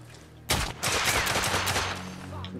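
Pistol gunfire in the action game The Order: 1886 erupts suddenly into a rapid, loud string of overlapping shots and sharp cracks that fades into ringing echoes.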